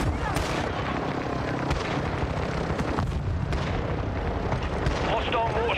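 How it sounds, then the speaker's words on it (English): Mortar strike explosions in the Call of Duty Warzone battle royale game boom as dense, continuous rumbling blasts over several seconds, with overlapping impacts and a loud, sustained wall of low-end noise beneath faint game chatter. "Hostile mortar strike near your position."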